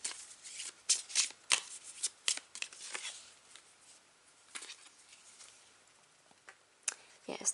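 Oracle cards being shuffled by hand in a series of quick papery riffles and slaps, moderately close, with brief pauses between bursts and no talk over them.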